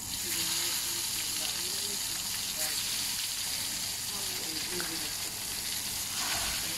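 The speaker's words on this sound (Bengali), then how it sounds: "তেলটা গরম হয়ে গিয়েছে আমার। তো এখন আমি বেগুনটা দিয়ে দিচ্ছি।" Eggplant slices frying in hot oil on a tawa, a steady bright sizzle and crackle that stays even throughout, with a faint voice speaking underneath.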